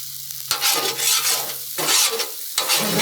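Chicken fried rice on a Blackstone griddle gets scraped and tossed in three loud bursts of sizzling and spatula scraping, with quieter frying between them.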